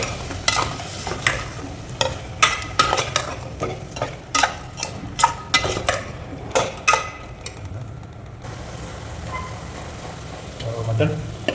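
A spoon scrapes and clinks against a pan as potatoes are stirred into mutton curry. The sharp strikes come in quick irregular bursts over a low sizzle, then settle into quieter cooking noise.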